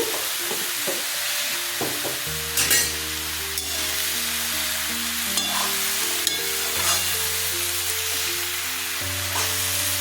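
Vegetables, raw tomato and pea shoot stems sauté in a pan for a light curry, giving a loud, steady sizzle with repeated spatula scrapes and knocks, close and without voices.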